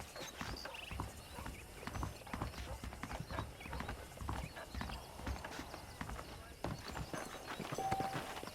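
Horse hooves clip-clop steadily in Red Dead Redemption as saddled horses move, with a quick regular rhythm that is fairly faint and close, and a brief whinny.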